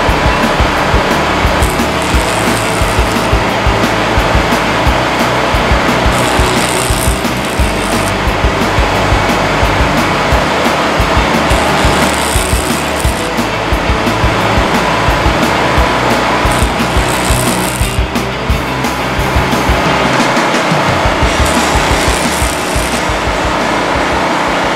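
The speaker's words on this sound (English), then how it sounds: "What I want to do is I just want to do a little welding for you guys," Loud, steady crackling and hissing from a shielded metal arc (stick) welding arc that runs without a break for the whole stretch. No one speaks.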